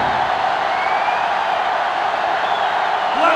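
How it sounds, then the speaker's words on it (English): A sellout stadium crowd in the NCAA Football 07 video game roars as a steady, dense wash of noise that holds loud and unbroken throughout, rising slightly at the very end. "This sellout crowd is really making a difference now as these guys can't even call the play."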